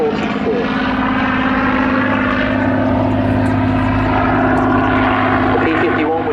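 A Merlin-powered P-51 Mustang flies a display at the Southport Airshow, its propeller engine giving a loud, steady drone with a deep harmonic hum that holds throughout, with faint voices mixed underneath.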